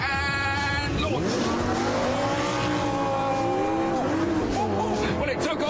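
A Lamborghini Gallardo Superleggera launches from a standstill in sport mode, its engine roaring and climbing in pitch through quick gear changes, loud and close, with tire noise under the rising revs.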